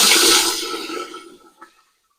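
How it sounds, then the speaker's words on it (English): Hot water is poured into a roasting pan around a springform pan to make a water bath for a New York style cheesecake. A loud, close rushing splash fades out over about a second and a half, then a small final drip. "Then you want to put warm or hot water in it."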